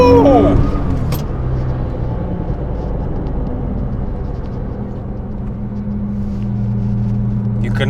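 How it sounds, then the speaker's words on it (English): A Nissan GT-R R35 accelerating hard on a road in Kenya, heard from inside the cabin as a loud engine roar that holds strong and steady and surges briefly at the start. "That is the acceleration"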